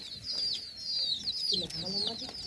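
A chicken clucking nearby in a rural yard, a run of short repeated clucks and squawky calls over a faint outdoor background, with no talk.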